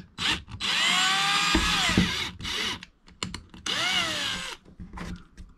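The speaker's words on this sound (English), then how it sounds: "Little tiny, smaller drill compared to the screws" A small power drill whines up to speed in several bursts, drilling a small pilot hole for screws, with short pauses and faint knocks between runs, close by.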